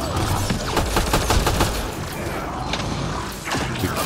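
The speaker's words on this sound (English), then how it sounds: "Shooting as fast as I can." Fast gunfire in the video game Mass Effect Andromeda, a run of quick loud shots mixed with mechanical clanks and booms, busiest in the first half before thinning out.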